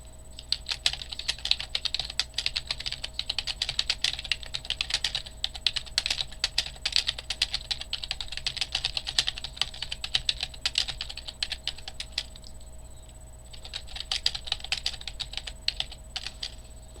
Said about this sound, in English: So yeah, you can hear the keyboard.